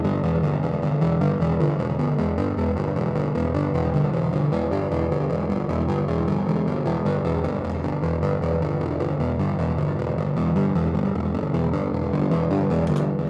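A gritty, heavily distorted synthesizer plays continuously, thick and buzzing, run through a pulverizer, with echoing delay repeats and a reverberant wash, no voices.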